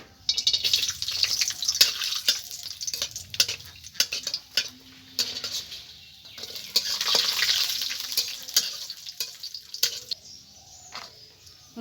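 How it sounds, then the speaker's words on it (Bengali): Cashews and raisins frying in oil in a pan, a soft ongoing sizzle broken by frequent sharp scrapes and clinks of a spatula stirring against the metal, close up with no speech. "এই কাজু কিশমিশটাকেও আমি একটু হালকা করে ভেজে নেব"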